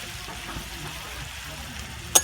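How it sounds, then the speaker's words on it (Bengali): Chopped onion and green chillies fry in hot oil, giving a soft steady sizzle at close range, ending in a brief sharp clink. "সব কিছু ভালো করে দু থেকে তিন মিনিটের মতো ভেজে নেব"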